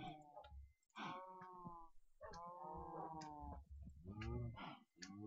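Cows in a farming video game low repeatedly, several overlapping moos following one another in a fairly loud, continuous stretch with brief gaps.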